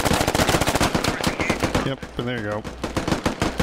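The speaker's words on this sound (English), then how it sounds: "Shots coming in." Gunfire in the military shooter SquadOps: dense, rapid bursts of automatic fire crackle throughout, briefly thinning as someone speaks near the middle before the shooting resumes loud and close.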